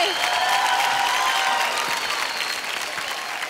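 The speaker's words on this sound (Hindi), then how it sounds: "जोरदार तालियां हो जाए सरफ के लिए" A studio audience at a televised dance competition claps loudly for a dancer, a thick, steady roar of applause with faint cheering mixed in, easing off slightly toward the end.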